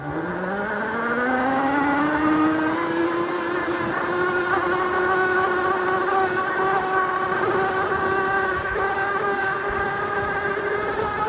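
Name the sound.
Cemoto D02 electric motorbike riding off-road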